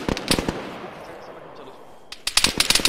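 A machine gun fires short bursts in Arma 3, with rapid loud cracks at the start, a lull with a voice, then another quick burst of shots.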